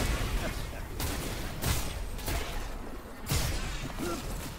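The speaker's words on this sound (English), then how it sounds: "These guns explode, it looks like." Gunfire and exploding guns in a video game ambush area, heard as a few sharp loud bursts over a steady dense background of game noise.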